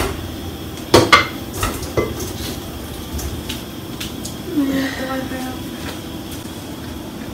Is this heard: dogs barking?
no